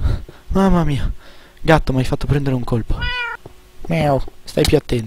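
Game cat meowing in Minecraft, several short mews mixed with someone talking loudly over them in Italian.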